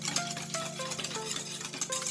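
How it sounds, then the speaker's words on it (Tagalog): Sugar and salt are stirred into a doughnut batter mixture by hand, giving continuous soft scraping and swishing. Faint clinks come from the utensil against the bowl, close up, with no voices. "So haluin muna natin ng maayos para matunaw natin yung asukal at saka yung asin"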